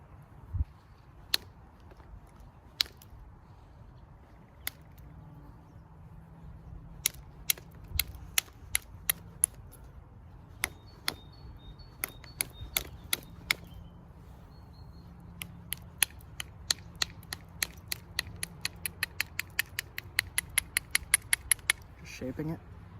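Sharp stone-on-stone clicks and ticks ring out as a flint knife blade is shaped and notched by hand, scattered at first and then coming in rapid, closely spaced taps near the end, close and crisp over a quiet background.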